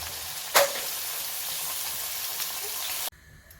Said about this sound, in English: So now that the fish is fried, I've lightly fried it